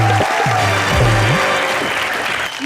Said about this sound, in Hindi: तो एक बार हमारी जोड़ी के लिए जोरदार तालियां बजा दीजिए